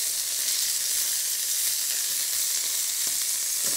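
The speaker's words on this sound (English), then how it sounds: "Pan fried from every side." A beef roulade, seasoned with salt and pepper and filled with bacon and mustard, fries in a pan with a constant, even sizzle and crackle that holds steady throughout, with no voices.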